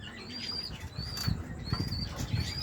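Pigeons in a loft flap their wings in quick repeated bursts close by, with soft cooing and faint chirps between the flutters and no talking.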